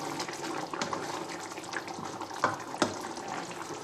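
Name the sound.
water poured from kettle into pan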